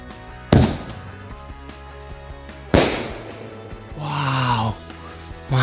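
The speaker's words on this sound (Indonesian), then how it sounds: "yang selanjutnya kita nyalain mercon keras sakti nih guys. Ini bisa terbang ke atas dan meledos di bawah di atas." A 'mercon keras sakti' firecracker set off outdoors gives two sharp, loud bangs a couple of seconds apart, then a short whistling whoosh and another burst at the end.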